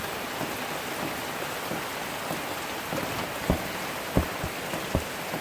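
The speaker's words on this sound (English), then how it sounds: "Just a little bit of rain." Rain falls steadily during Hurricane Lane, a constant close hiss broken by a few louder drops or taps near the end, with no voices.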